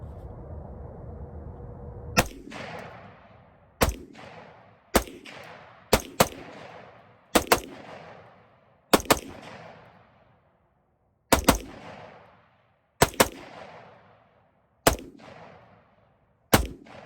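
Sharp rifle shots from a Palmetto State Armory Freedom 16-inch upper with a nitride 1:7 barrel, fired outdoors as about eleven loud single cracks at irregular intervals, each trailing a short echo.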